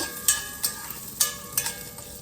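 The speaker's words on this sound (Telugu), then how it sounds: "బంగారు అన్నంలో శనగపప్పు మినప్పప్పు అన్నీ వేగిపోయాయి" Chana dal and urad dal frying in hot oil as a tempering for a kanda bachali curry: a soft, steady sizzle broken by a few quick stirring scrapes, fairly faint and close, with no talking.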